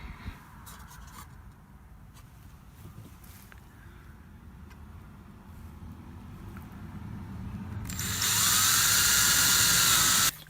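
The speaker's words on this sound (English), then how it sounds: "I'm going to drill a bigger hole" Faint handling noises give way to an electric drill suddenly whining at high speed, loud and steady as it bores a pilot hole into wood for a couple of seconds.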